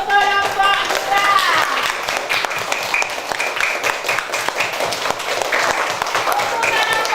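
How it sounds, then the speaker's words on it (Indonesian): Schoolchildren in an elementary classroom clap together for a group, a steady, dense patter of applause close by, with voices calling out over it. "Kita kasih tepuk tangan untuk kelompok 2."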